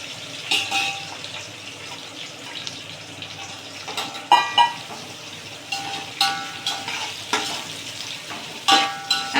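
Chopped onions sauté in a pan for tomato rice, giving a soft, continuous sizzle broken by intermittent scraping stirs and clinks from a spoon, close by with no talking.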